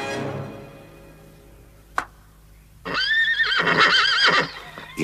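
A cartoon horse lets out a loud, wavering whinny, preceded by a single sharp clop of a hoof and a fading musical note, with the neigh rising and falling clearly in the foreground.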